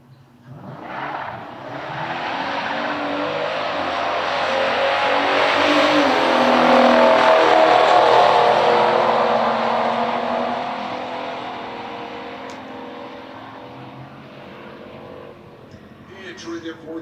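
A 1970 Ford Torino Super Cobra Jet and a 1972 Chevelle Heavy Chevy make a stock drag race pass: loud engine roar builds and peaks midway, then fades as the cars pull away down the strip, with crowd chatter and track noise beneath.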